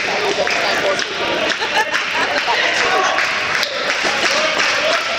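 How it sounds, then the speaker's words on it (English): A crowd at an indoor cricket match between UAE Colts and England Colts applauds and cheers, a steady, dense roar of clapping and chatter running throughout under a commentator's voice. "Crowd are applauding, getting behind England here"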